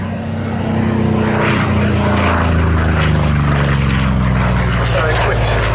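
Goodyear Corsair fighter's propeller engine at a Duxford air show, a loud, steady droning roar with a deep throbbing hum, with a commentator talking over it.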